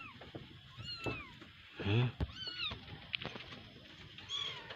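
A mother cat with her newly born litter of kittens, giving soft high mews and cries heard close by over light rustling and background noise.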